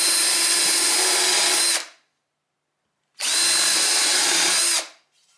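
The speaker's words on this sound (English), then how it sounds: "I drilled pilot holes along each dado using a countersink drill bit." A power drill with a countersink bit whirs loudly in two bursts of about two seconds each, separated by a short silence, close up, drilling pilot holes along wooden dadoes.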